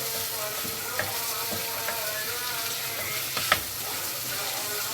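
Meat sautéing in a pan as the base for an Egyptian okra stew, a steady close sizzle and frying hiss with occasional stirring clicks, no talk over it.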